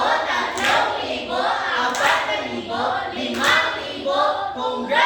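Children clap for a classmate in a rhythmic burst pattern, roughly four loud surges of clapping over a few seconds, close and lively.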